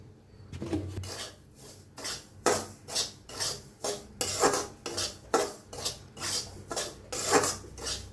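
Coconut or filling for karanji roasting in oil in a pan, with a spatula scraping and clinking against the metal in a steady rhythm of about a dozen close, repeated strokes and no talk.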